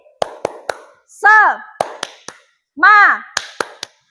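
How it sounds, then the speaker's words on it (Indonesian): Sharp hand claps in a classroom clap game, three quick groups of three crisp claps, each group separated by a short chanted vocal burst from the group. "Kalau Ibu bilang, tepuk semangat, tepuk 3 kali."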